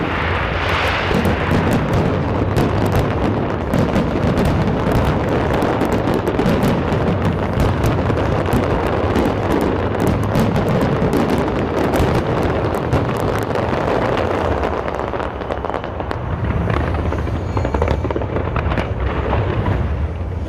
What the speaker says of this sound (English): Realize how satisfying it was actually watching fireworks.